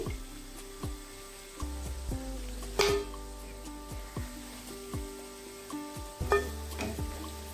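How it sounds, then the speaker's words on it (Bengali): Pakoras frying in hot oil over a low flame; a soft, continuous sizzle runs throughout, broken by scattered crackles and pops. "একদম লো ফ্লেমে পকোড়াগুলো ভেজে নিচ্ছি"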